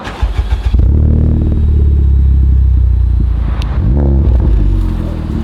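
Honda tuned car fitted with a Seeker exhaust cranks and fires up, then settles into a deep, loud, steady idle close by, with a brief blip partway through.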